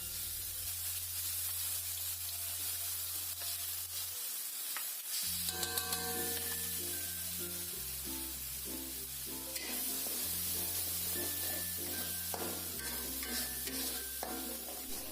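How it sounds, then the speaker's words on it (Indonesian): Finely ground spice paste sautés in a pan for dried tuna floss, giving a continuous close sizzle and hiss with scraping stirring strokes throughout. Background music with a steady bass line plays underneath. "kita tumis bumbu halus tadi yang sudah kita halusin sampai benar-benar wangi ya"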